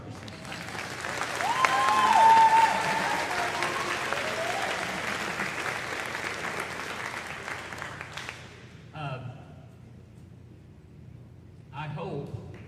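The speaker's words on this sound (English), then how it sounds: "Let's applaud for Mr. Ferguson." School band concert audience giving sustained applause, a dense wash of clapping that swells and fades over about eight seconds, followed by someone speaking at a microphone.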